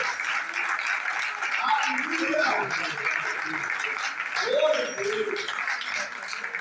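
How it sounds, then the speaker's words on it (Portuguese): A church congregation applauds loudly in worship, a steady dense wash of clapping lasting throughout, with voices and cheering mixed into the crowd noise. "levante suas mãos e aplauda bem forte o nome do nosso"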